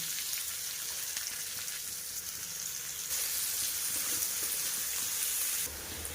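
Chopped onion frying in oil tempered with cumin and whole garam masala, a steady close hissing sizzle that grows louder midway with no talk.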